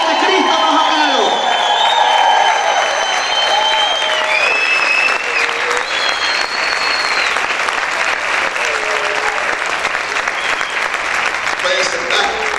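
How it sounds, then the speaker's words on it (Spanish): A church congregation claps and shouts in celebration, making loud, continuous applause mixed with whoops and raised voices, with speech from the front heard over the noise. "Grita y aplaude."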